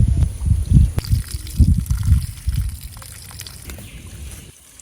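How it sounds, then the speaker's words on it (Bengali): Rice is rinsed in water outdoors during a village picnic cooking session: close sloshing and swishing in bursts, then trickling and pouring that fades toward the end. "কমপক্ষে 3 বার চালটা ধুয়ে নিতে হবে।"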